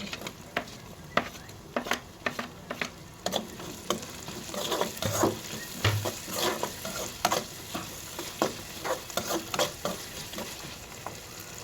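Tomato and coriander fry with garlic paste in a pan, a soft sizzle broken by repeated spoon stirs and scrapes against the metal, close and fairly quiet, without speech.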